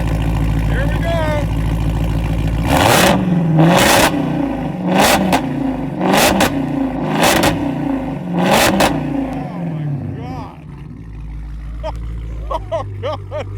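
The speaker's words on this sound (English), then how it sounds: "We're gonna give it some revs now." A Dodge SRT 392 or Hellcat engine revs hard in a series of loud bursts, about six sharp climbs roughly a second apart, then settles back to a rough idle.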